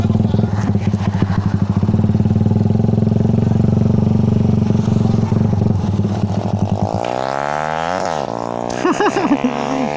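A Raider 150 and a loaded XRM 125 motorcycle rev their engines in a face-off, a loud, close, buzzing drone that climbs and falls in pitch through repeated throttle blips, with voices underneath.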